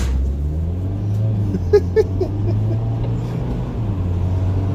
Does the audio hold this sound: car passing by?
yes